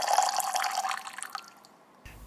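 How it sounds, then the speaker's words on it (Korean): Kirsch cherry liqueur poured into a warm dessert mixture for a strawberry bottle cake, a close liquid splashing trickle that fades out within about two seconds, with no voices. "키리쉬라는 체리수를 넣고"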